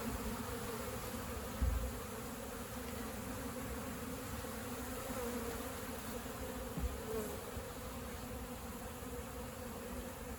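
Honey bees from a very active hive inside a shed, bringing in pollen, hum in a steady, dense drone that fills the whole stretch with no talk, broken only by two faint brief knocks.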